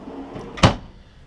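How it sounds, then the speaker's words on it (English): A deep kitchen drawer on full-extension gliders in a 2015 Airstream Classic 30J travel trailer rolls and shuts with one sharp close thud, preceded by a soft sliding rumble, close and alone. "Nice deep drawer. These are full extension gliders."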